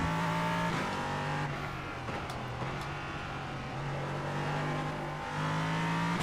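LMP3 race car on track on fresh tyres, engine droning and shifting pitch as the rear tyres slide and scrub, loud and close from onboard with short dips between bursts of power.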